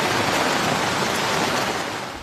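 Heavy rain and rushing floodwater pour down a sloping part of Barangay Pico in La Trinidad, Benguet, making a dense, steady hiss and roar without any voices.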